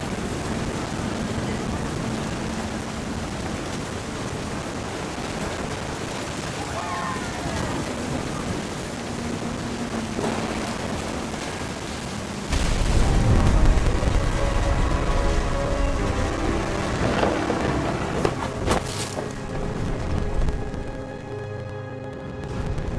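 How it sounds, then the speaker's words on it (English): Rain pours steadily in What Remains of Edith Finch, a thick hiss that swells halfway through as a deep thunder rumble rolls in close and powerful, then fades. "The thunder sounded much too close and full of angry power."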